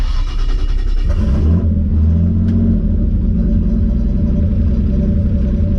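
A modified car engine with a coolant problem running at close range, a loud rev at the start that drops to a steady, heavy rumbling idle and holds there with no voices.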